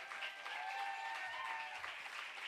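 Audience applause at a Torrance city council meeting, a brief, faint patter of many hands clapping in a large room.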